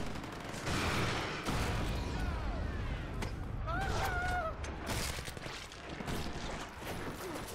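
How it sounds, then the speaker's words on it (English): Sustained gunfire aimed at the player in the video game Prototype, loud rapid bursts and booms layered with chaotic battle noise and the occasional whistling tone, continuing throughout. "Wait, they're still shooting me."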